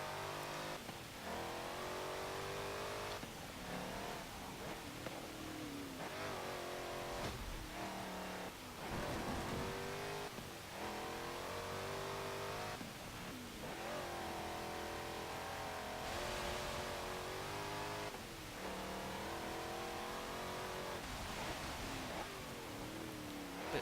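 A 2018 Honda Odyssey minivan accelerates in the video game Forza Motorsport 7. The engine note climbs repeatedly through the gears with rising revs, short dips at each shift and a steady, sustained drone.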